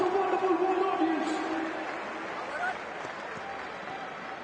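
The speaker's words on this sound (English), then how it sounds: "can we have one big huge round of applause for everybody in the stadium?" A stadium crowd at a T20 cricket semi-final between India and England claps and cheers in a broad wash of noise, with a voice talking over it at the start before the applause carries on.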